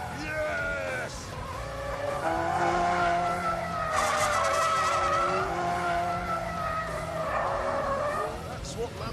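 A Lamborghini drives and skids in The Grand Tour Game video game, tyres squealing in long, wavering screeches over engine roar, loud and continuous, with a voice talking over it.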